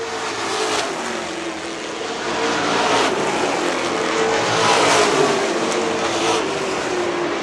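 Prostock stock cars race around a track, their engines droning loud and steady with swells as the pack passes, sustained for several seconds.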